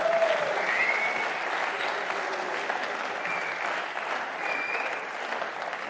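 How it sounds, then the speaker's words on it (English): Audience applause after a squash match at the Frans Otten Stadion in Amsterdam, a steady wash of many hands clapping indoors, fairly loud and continuous with a faint murmur. "Big round of applause to Thimi and Omar for that game there."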